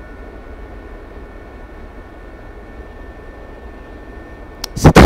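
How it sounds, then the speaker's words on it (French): A Gazelle helicopter flies at night in the DCS combat flight simulator, a steady broad rotor and turbine hiss with a faint high whine, ending in a brief loud burst. "C'est très étrange de voler de nuit dans un hélico."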